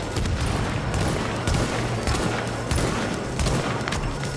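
Continuous gunfire with rapid shots and booming explosions layered together in the video game The Division on PS4, dense and loud throughout.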